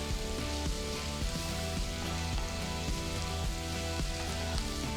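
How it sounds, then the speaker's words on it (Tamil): Chopped onion, garlic, ginger and slit green chilies sautéing in a pan give a steady, dense sizzle with faint stirring scrapes, close and continuous with no talking. "பொடிசா நறுக்கின 2 வெங்காயம், 10 பல்லு பூண்டு, பொடிசா நறுக்கின 1 துண்டு இஞ்சி, கீறி வச்ச 3 பச்சை மிளகாய் சேர்த்து நல்லா வதக்கிக்கலாம்."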